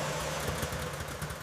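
A 1936 Bugatti Type 57 Atlantic engine idles after restoration, a faint low rumble with a soft uneven throb, brief and steady with no voices.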